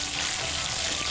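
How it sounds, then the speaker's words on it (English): Green chili fries in hot oil in a pan while cooking Kashmiri koftey, giving a close, steady hiss and sizzle with no talking. "Let the green chili fry for a bit"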